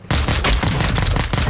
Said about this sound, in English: Getting sniped in the back.